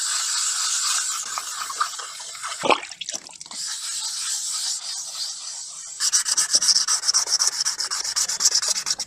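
Dry sanding of a damaged headlight lens on a Mercedes W203: steady close scratchy rubbing strokes, with a brief scrape near the middle, then a faster, louder rhythmic back-and-forth sanding run.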